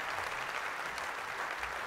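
An audience applauds inside a folk festival tent at Shrewsbury Folk Festival, a steady wash of clapping hands, fairly soft and distant, filling the short stretch without voices.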